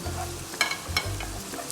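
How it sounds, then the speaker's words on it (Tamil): Chopped large onion and finely minced garlic sautéing in a hot pan for homemade noodle soup, a steady close sizzle broken by a few sharp stirring scrapes and clinks, with no voices. "சேர்த்துட்டு நல்லா பச்சை வாசனை போகிற வரைக்கும் வதக்கிடலாம்."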